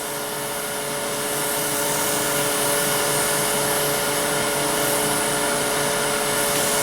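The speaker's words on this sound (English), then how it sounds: "we're going to gently buff our friction polish till we get a little heat build up" A wood lathe spins at high speed while friction polish is buffed onto a wooden ring box, giving a steady, loud whirring hum that swells slightly and holds constant throughout with no talk.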